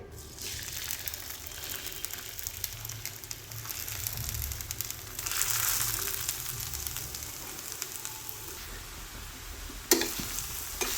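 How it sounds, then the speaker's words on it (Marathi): Grated carrot fries in ghee in a kadhai while being stirred for carrot halwa, giving a steady close sizzle with scraping stir strokes, a brief louder burst midway and a sharp clank near the end. "गाजर किसलेला टाकून घ्यायचा आहे"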